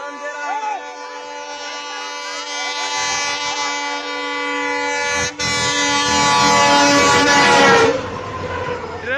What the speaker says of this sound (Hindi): ट्रेन हॉर्न दे रहा है,